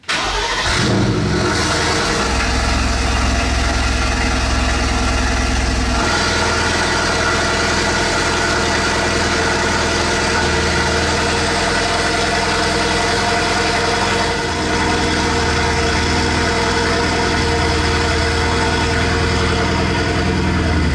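A Mercedes-AMG GT R with stage 2 tuning fires up in comfort mode with a sharp crank and roar, then settles into a loud, deep, steady idle with faint revving swells, close and continuous.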